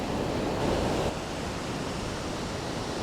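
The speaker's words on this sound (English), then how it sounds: "I think the sea looks beautiful when it's like this with the waves and that." Sea waves rolling onto a beach in Phuket make a steady, dense roar of surf with a slight swell early on, continuous and fairly loud with no voices.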